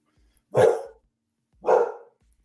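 A dog barks twice at close range, two loud, separate woofs about a second apart in an otherwise quiet room.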